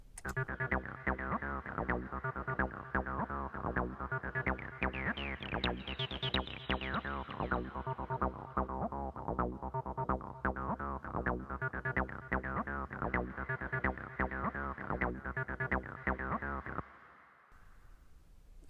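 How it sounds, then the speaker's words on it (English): A gritty, distorted tone plays a continuous melodic line drenched in heavy reverb, ending in a washy fading tail. "essentially it's a kind of overdriven reverb"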